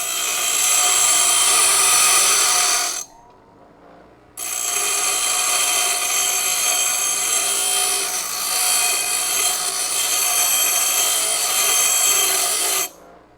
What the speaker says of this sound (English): the bench grinder probably wasn't the best thing to do that with